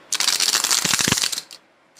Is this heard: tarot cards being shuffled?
yes